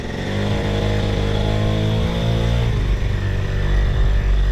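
A Honda Spree scooter fitted with a swapped engine runs with a steady buzzing drone and harmonic whine, the pitch shifting slightly as it revs, close and continuous.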